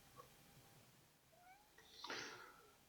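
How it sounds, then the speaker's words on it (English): A cat gets energetic and noisy, giving a couple of faint thin mews and then a louder, rising meow near the end, all fairly distant and quiet with no talking. "that was a cat becoming energetic, making a lot of noise"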